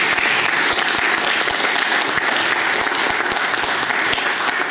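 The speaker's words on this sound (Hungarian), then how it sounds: "Szeretném, hogyha talán legalább tapsoljuk is fel." Sustained audience applause at a gathering honouring wrestlers, dense steady clapping from a full room throughout, close and loud with no talking over it.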